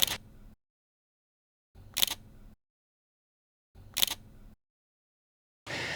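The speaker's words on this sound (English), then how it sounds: "I also really like the shutter sound." Fujifilm X-M5 camera shutter clicking, three crisp single clicks about two seconds apart, close and isolated in silence, followed by a fourth.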